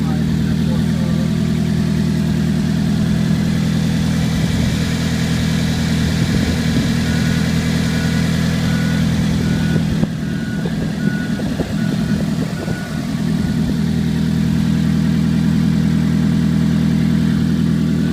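A 2005 Nissan Altima 2.5 engine running in a test at an auto wrecking yard, a steady close idle hum with some faint clatter partway through.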